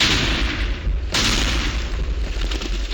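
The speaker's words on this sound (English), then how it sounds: "I'm able to make fully working turrets that turn and with working cannons that can elevate and fire." Heavy cannon turrets firing in Minecraft with the Create Big Cannons mod, two deep booming blasts about a second apart, loud and close, each trailing into a rumbling decay.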